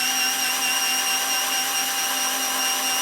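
A power drill bores a pilot hole for a lag bolt in a wooden limb, a steady high-pitched motor whine holding constant pitch throughout, close and loud with no talk.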